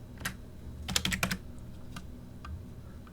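Keystrokes on a computer keyboard entering a numeric value in CAD modeling software, a quick burst of several close, crisp clicks near the middle, with a few faint taps afterward over quiet room tone.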